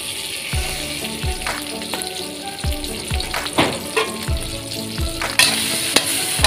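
Thai jungle curry paste frying in a little vegetable oil for a fish curry, a steady close sizzle broken by regular scraping strokes of a spatula against the pan.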